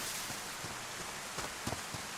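Steady rain falls in the DayZ survival game, a dense constant hiss with a few soft droplet taps and faint thumps, with no talking.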